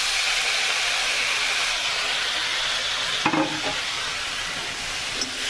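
Spinach frying in a pan with cumin powder gives a steady, dense sizzle throughout, with a brief clatter of stirring near the middle and another light knock toward the end.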